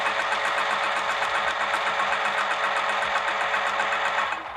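A sewing machine stitches along the edge of a vinyl handbag, running in a steady, loud, continuous whir with rapid needle clatter before slowing at the end.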